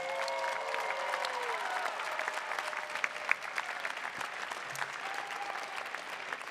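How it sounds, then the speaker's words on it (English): A large commencement audience applauds graduates with sustained, even clapping filling a big hall at moderate distance, a dense crackle with a few faint tonal sounds and cheers mixed in. "Please join me in an extra loud round of applause for the Masters of Arts Management"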